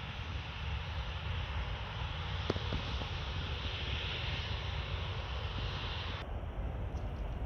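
A jet airliner taxies toward the runway at Orly airport, a steady broadband engine roar with wind noise on the microphone, continuous and moderately distant throughout with no talk.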